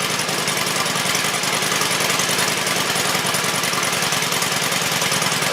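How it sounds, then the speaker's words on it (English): A car engine idles loudly and steadily up close in a garage, a continuous even rumble with a fast regular pulse and no talk over it. "I believe I almost got it down to the idle where I need it."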